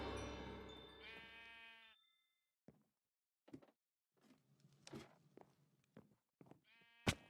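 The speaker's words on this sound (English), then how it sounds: "But it's got sheep." Sheep in a modded video game bleat twice, a loud drawn-out baa at the start and another near the end, separated by soft thuds, clicks and faint in-game noises.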